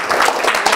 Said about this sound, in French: Ça vaut une bonne main d'applaudissement.